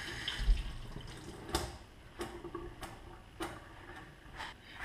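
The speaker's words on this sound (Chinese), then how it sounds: "我们先把韭菜洗一下。" Chives washed under a running kitchen tap, a steady splashing water stream with sharp clicks and knocks as the stalks are handled, close and without talk.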